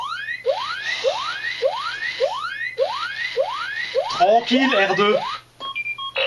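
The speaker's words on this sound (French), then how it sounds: "il émet ses petits bips et dès qu'il capte quelque chose qui passe devant lui, il lance l'alarme" A Hasbro Smart R2-D2 toy robot sounds its alarm as a run of quick electronic chirps, each sweeping upward, repeating about every half second. A warbling burst and a few short steady tones follow, and a voice speaks briefly.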